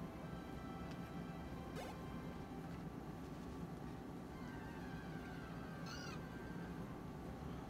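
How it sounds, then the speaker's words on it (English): A cat Pokémon in the PokeMMO video game gives a faint meow over a steady background of game music and noise, with a short rising cry near the end. "Oh, it's a kitty."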